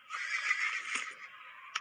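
A horse in the video game West Gunfighter neighs when called, a single drawn-out whinny at moderate loudness with no talk over it.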